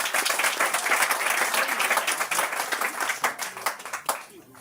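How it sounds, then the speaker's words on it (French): Audience applause at a Gabonese political gathering, a dense, steady clapping that fills the space, then thins into scattered claps toward the end. "l'un des représentants ici est Mombo Rémi, que je vous demande d'applaudir"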